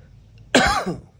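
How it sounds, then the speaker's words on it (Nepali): A single sharp, rough cough from a person with a cold and chest pain bursts out close by, then trails off. "खोकी लगाइरहेको छ छाती दुखिरहेको छ"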